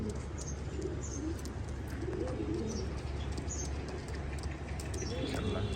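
Pakistani high flyer pigeons coo steadily over a busy, close background of chirps and low murmur, with soft repeated calls throughout.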